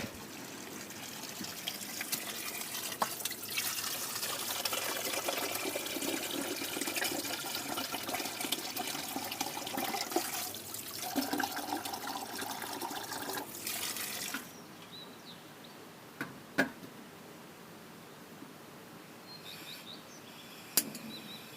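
Water from a mountain spring in the Carpathians pours into a container as it is filled, a steady rushing splash for about fourteen seconds that then stops, leaving quiet outdoor ambience with a few handling knocks.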